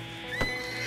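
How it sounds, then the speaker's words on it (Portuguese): A short horse neigh from the video game GTA da Roça, a single brief whinny rising out of steady game background sound, close and fairly loud. "Ah, e esse cavalo aqui, ó?"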